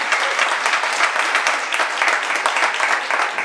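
A forum audience gives a dense, loud round of applause for the candidates, continuous clapping from a large crowd filling the room with no break.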